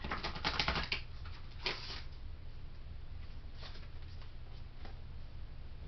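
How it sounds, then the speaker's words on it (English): A deck of tarot cards being shuffled by hand, with a quick burst of riffling and flapping card sounds at the start, a shorter burst after, then faint scattered patters over a low steady hum. "I'm going to shuffle one more time, see if we got another meditation card."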